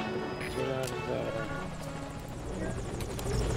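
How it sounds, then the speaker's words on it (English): Helicopter arriving in Metal Gear Solid V: Ground Zeroes, a steady loud rotor thrum and engine whine under game dialogue and speech. "My helicopter's coming in."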